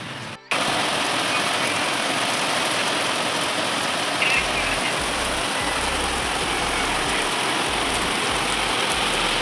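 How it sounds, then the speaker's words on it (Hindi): Heavy rain drumming steadily on a tin sheet roof during a storm, a dense continuous hiss and patter close overhead with a low rumble underneath. "यहाँ इस वेवर्स के छत पे बारिश होती है तो सबसे पहले यही सुनाई देता है, पूरा ऊपर टीना लगा हुआ खट खट खट खट की आवाज़।"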